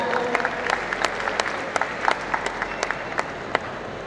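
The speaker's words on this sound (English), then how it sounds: "Can we have a big round of applause for the winners?" A crowd at a college annual fest prize ceremony claps for award winners, a sustained, fairly loud wash of applause with sharper individual claps rising above it and no speech over it.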